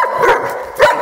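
A dog barks close and loud, two sharp barks with rough yelping between them, and no other sound around them.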